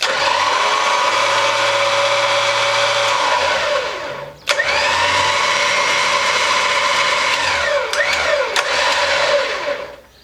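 A Superwinch SX 10,000 lb electric winch mounted on a Jeep Cherokee XJ whines loudly and steadily as it spools in, cuts out briefly, then runs again the other way, close by with no talking.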